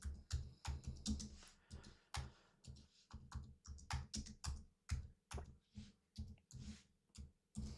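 Typing on a computer keyboard at close range, a quick run of sharp key clicks and taps in an uneven rhythm, with no talking.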